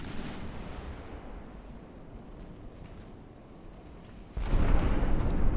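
Naval guns fire at a heavy cruiser in the Ultimate Admiral Dreadnoughts warship game, heard as a muffled continuous rumble of distant shelling that swells into a louder, denser barrage near the end, with no voices.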